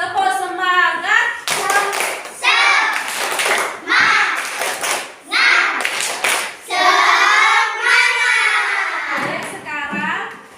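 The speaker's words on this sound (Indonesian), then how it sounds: "Oke, tepuk semangat." A classroom of schoolchildren perform a rhythmic spirit clap, with bursts of sharp hand claps patterned between chanted lines that they sing together in loud unison voices.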